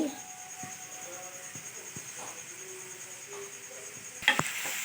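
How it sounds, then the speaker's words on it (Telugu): Faint, steady sizzling of onions frying in hot oil for a drumstick and prawn curry, with soft stirring scrapes and a brief clatter near the end. "ఆయిల్ బాగా వీటెక్కేదాకా చూసి ఉల్లిపాయలు వేసుకోవాలి"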